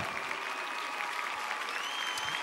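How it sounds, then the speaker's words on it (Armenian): A concert audience claps warmly, a dense, even wash of applause that holds at a steady level from start to finish, with no distinct voices standing out. "ձեր ջերմ ծափահարությունները"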